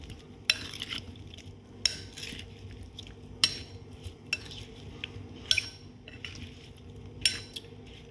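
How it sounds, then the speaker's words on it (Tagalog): Sliced cucumber is tossed and mixed in a bowl for a simple salad, with a utensil clinking and scraping against the bowl at a roughly steady rhythm, fairly quiet, with no talking. "So, ilagay na natin yung ating cucumber. So, haluin natin."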